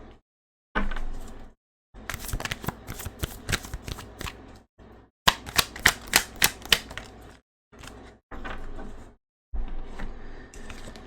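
Tarot cards being shuffled and drawn during a reading, heard as bursts of crisp riffling and snapping card flicks separated by short pauses, close and fairly loud with no talking.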